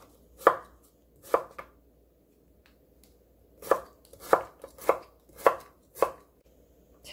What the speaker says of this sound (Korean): 채를 썰어 줄게요.